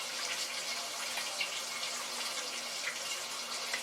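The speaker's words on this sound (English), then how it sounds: "Now we're going into the cleaner water for a little more dunkage." Cucumber seedlings are sloshed and dunked in a container of clean water, giving a continuous close splashing and trickling wash, steady throughout without speech.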